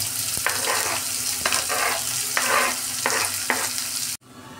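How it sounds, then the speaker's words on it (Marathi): Steady sizzling of onions frying in hot oil, with a few louder stirring scrapes at intervals, continuous and close, cutting off abruptly near the end. "त्यामध्ये कांदा टाकून गोल्डन ब्राउन करून घ्या"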